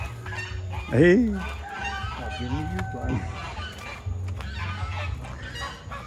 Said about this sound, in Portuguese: Os gansos estão sempre fazendo barulho.